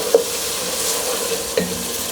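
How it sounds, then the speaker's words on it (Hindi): Chicken and sliced tomato sizzling in a pan for a turnip and meat curry, with a steady low frying hiss and two brief louder stirring clatters, close and without voices. "अब टमाटर के गलने तक हमने इसको भूनना है"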